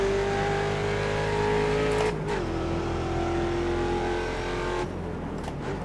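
A Ford Mustang race car laps the Spa circuit in the iRacing simulator, its engine droning steadily and loud, then dropping in pitch as it brakes hard and downshifts, settling into a lower, rougher note without any talk.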